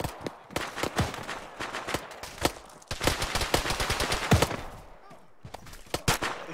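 Gunfire in a military squad shooter game, with sharp repeated shots in irregular bursts and rapid clusters, fairly close and loud, trailing into a brief lull before a few final shots.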